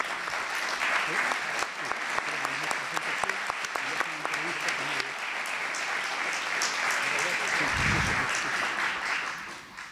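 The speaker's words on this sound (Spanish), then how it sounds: "Así que les pido un aplauso." A crowd applauds steadily at a signing ceremony between the Madres de Plaza de Mayo association and a university. The dense, even clapping lasts throughout, with a brief low thump near the end.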